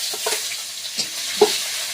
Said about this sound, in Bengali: তো তেলটা গরম হয়ে গিয়েছে, এবার পেঁয়াজ দিয়ে দেবো